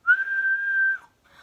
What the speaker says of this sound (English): the daddy blew his whistle